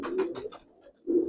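Pigeons at a loft coo close by, a low throaty burst of rolling coos followed by a short pause and another coo, with no talk.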